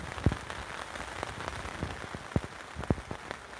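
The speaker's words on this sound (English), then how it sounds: "catfishing in the rain" Steady rain falling and pattering on a surface while catfishing, with a constant hiss and scattered sharper drops and taps throughout, and no talking.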